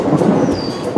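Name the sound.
thunder and rain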